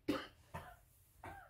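Three separate coughs, close and fairly sharp, spaced about half a second apart, with quiet in between.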